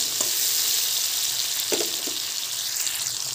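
Taro leaves with shrimp frying and being stirred in a pan, a steady close sizzle with a few soft scraping stirs throughout, no talking.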